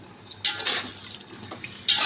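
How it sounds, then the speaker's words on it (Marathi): Hot water splashes into a pot of chicken biryani in short bursts, with metal clinks and a stir between pours, close and fairly quiet. "त्याच्यामध्ये आपण आता गरम केलेलं पाणी सोडणार आहे शिजण्यासाठी थोडंसं"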